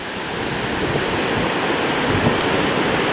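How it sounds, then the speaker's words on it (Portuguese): Ocean waves break constantly at a curve of Praia do Lé beach under a strong northeast wind, a dense unbroken roar of surf and wind buffeting close to the microphone, with no voices. "Essas aí são as ondas aqui da curva, quebrando a todo momento."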